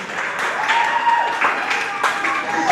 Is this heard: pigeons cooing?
no